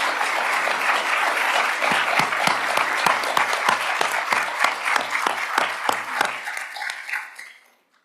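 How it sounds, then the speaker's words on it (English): Applause fills a plenary assembly hall at the IWC69 meeting in Lima, dense steady clapping from a large audience that thins toward the end and fades out in the final second. "I will take applause as assent"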